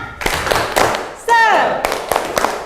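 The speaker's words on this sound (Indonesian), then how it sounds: "Tepuk semangat." Schoolchildren in a classroom perform a rhythmic spirit clap, sharp hand claps landing in a patterned sequence while their voices shout along in unison between the beats.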